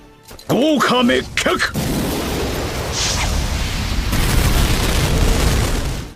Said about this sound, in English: Next, he turns up the heat with some fire jutsu.